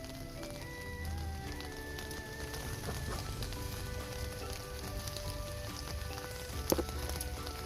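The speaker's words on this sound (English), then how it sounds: "Alright, so we're here in the rain." Rain patters on an umbrella held overhead beside a Barbados cherry tree, a steady close drizzle of drops with faint background tones and one sharper tap near the end.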